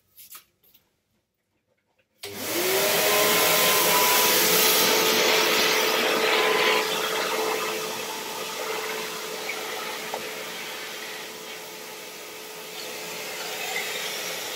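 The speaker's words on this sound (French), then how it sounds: "je vais passer à l'aspirateur" Indoors, a vacuum cleaner is switched on after a couple of seconds of near silence and a few small knocks, then runs as a loud, steady whine, its tone dipping slightly partway through as it keeps going.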